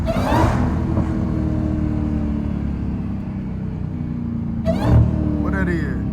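A Dodge Hellcat drones steadily inside an underpass, then gives a short, loud rev blip as it downshifts, the engine rumble echoing close by throughout.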